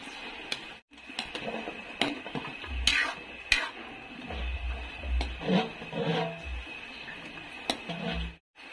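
Close, uneven clinks and scrapes of a spoon stirring jackfruit in coconut milk with anchovies and stock cubes in a pot, with soft low thumps and a light simmer beneath.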